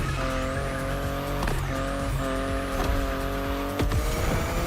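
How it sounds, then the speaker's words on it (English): BMW i8 driving in The Crew Motorfest racing game, a steady loud engine drone with a rising whine, gear shifts and brief tire squeals. "The BMW i8 is a car that stands out from the crowds."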